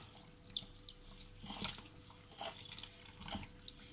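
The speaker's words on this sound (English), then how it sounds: "pour in your wet ingredients while you're stirring" Wet ingredients are poured into a big mixing bowl of dry baking ingredients while stirring, giving a steady splashing liquid sound with a few louder gurgling bursts, close by with no talking.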